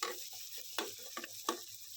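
Tomato and chilli fry in a pan with a steady, close sizzle, broken by several louder scrapes and clatters as the mix is stirred.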